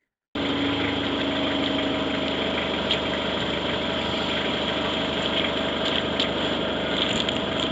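A drain jetting machine engine runs steadily at a recycling centre drain blockage job, a continuous close mechanical drone with no talk.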